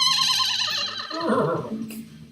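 A horse whinnies loudly and close, a rising then falling neigh with strong harmonics lasting about two seconds, heard alone without speech.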